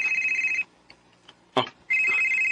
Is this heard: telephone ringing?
yes